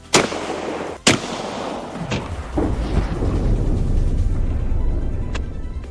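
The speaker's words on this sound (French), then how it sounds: "Tirons maintenant sur cette gélatine balistique pour voir si on peut faire exploser la pastèque." A shotgun fires a Tenderizer shell into ballistic gelatin holding a watermelon: two sharp, loud blasts in quick succession, then fainter cracks and a lingering rumbling tail at an outdoor range.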